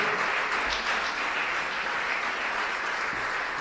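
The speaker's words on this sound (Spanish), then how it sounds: "Dale un aplauso a Él en esta tarde." Sustained applause from a church congregation during a sermon, dense and even clapping filling the space without pause.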